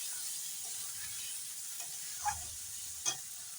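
Fried potatoes cooking in a spiced masala for a soybean curry: a soft, steady sizzle with a faint hiss, broken by two gentle spoon knocks in the second half, fairly quiet and without talk.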